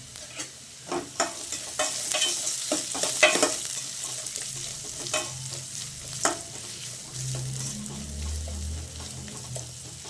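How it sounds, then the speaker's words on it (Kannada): Chopped onions fry and sizzle in hot oil in a pan as aloo palya is cooked for dosa, with steady crackling and several clattering strokes of a spatula stirring them, close by and alone. "ನೋಡಿ ಈರುಳ್ಳಿ ಫ್ರೈ ಆಗ್ತೈತೆ"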